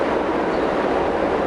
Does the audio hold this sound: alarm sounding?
no